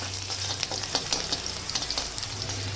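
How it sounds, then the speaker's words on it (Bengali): Chopped garlic sizzles in hot oil with mustard seeds while being stirred, a steady close frying hiss broken by soft scrapes of the spoon, with a low hum underneath, while cooking poha. "এইভাবে রসুনটা নেড়ে নেবো"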